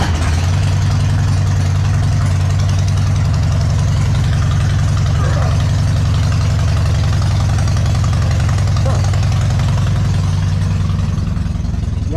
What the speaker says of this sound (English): This is the engine start stop. Hear that prime, and then you just hit the button.